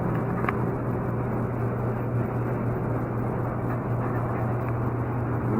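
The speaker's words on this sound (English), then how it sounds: "My furnace is running, so it gets pretty loud in here." Home furnace running in a room, a steady loud low rumble and hum that holds unchanged for several seconds with no talking.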